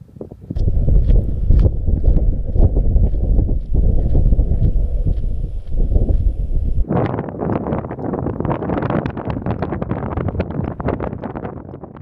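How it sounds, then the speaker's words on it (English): Heavy, continuous wind buffeting the microphone on a dam at Llyn Brenig, North Wales, a loud low rumble that shifts into a brighter, gusty roar partway through. "Quite windy here"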